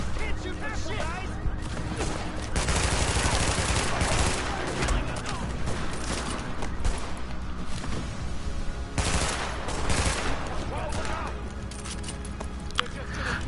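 Dense, continuous gunfire from The Division video game, with rapid bursts and crashes throughout and a voice talking over it.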